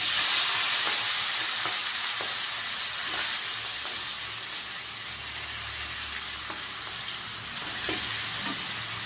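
Marinated chicken frying in a pan for a curry with teasel gourd, sizzling and hissing steadily up close with occasional soft scrapes of stirring.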